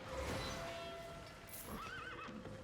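Horse neighing from the Albion Online video game, a whinny rising and wavering alone with clip-clop hoofbeats beneath, fairly loud and close over game background.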